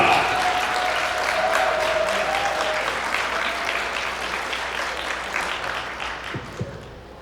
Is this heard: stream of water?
no